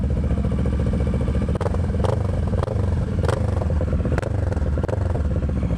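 A motorcycle engine running close by and loud, revved in short bursts with rattling clatter over a steady idle.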